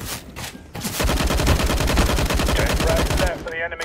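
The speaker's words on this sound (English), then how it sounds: "It's an assault rifle." AUG assault rifle fired in the video game CS:GO, a rapid sustained burst of evenly spaced shots lasting a few seconds, loud and close, with brief speech near the end.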